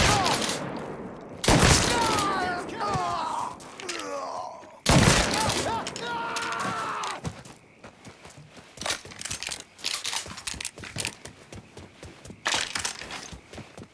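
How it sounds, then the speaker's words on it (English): Bursts of gunfire in the Mafia 3 video game ring out in loud rapid volleys with echoing cracks and shouting voices, then thin into scattered single shots and impacts. "Shoot him from the side!"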